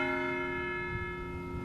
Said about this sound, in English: Then bells.